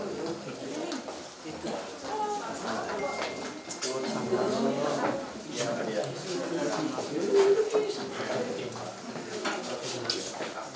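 Doves cooing at a wedding blessing and traditional ceremony, with repeated soft low coos throughout, heard under and between people talking nearby.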